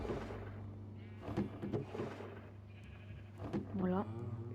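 Sheep bleating in a Minecraft farm area, several short nasal bleats scattered through a low steady hum, with one clearer wavering bleat near the end and what may be a soft voice in the background.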